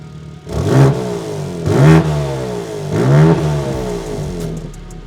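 A BMW G80 M3 with a ram air intake revs hard three times in succession, each rising exhaust roar falling back to a burbling idle, loud and close, with no talk.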